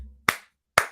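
Two sharp, separate hand claps from a played recording, a single loud smack near the start and another just before the end, with a faint low hum before the first.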